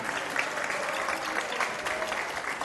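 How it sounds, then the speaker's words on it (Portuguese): An audience at a Brazilian tribute ceremony gives a round of applause as an honoree is called up, a steady, full clatter of many hands clapping evenly for the whole stretch, with no voices. "uma salva de palmas"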